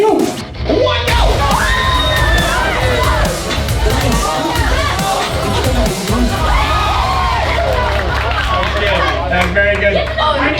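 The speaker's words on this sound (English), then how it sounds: "I want you to scream your head off so that we get like a fine from the police" A room of students screaming loudly together at midnight, a dense, sustained crowd roar of shrieks and shouts close by that runs for about ten seconds.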